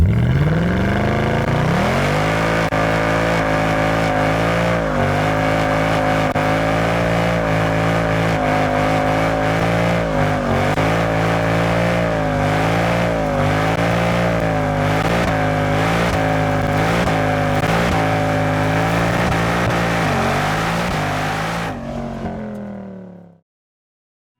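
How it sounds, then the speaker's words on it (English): A Mercedes C63 AMG Coupe doing a burnout at a 24 Hours of Lemons race, its engine revving loud and sustained with rising and falling throttle swells, then cutting off abruptly near the end. "I decided to win the crowd with an AMG smoke show."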